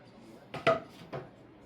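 A wooden board being flipped over while handbuilding a raised pet bowl, a few close knocks and clatters, one sharp thump and a softer one after, in a quiet room.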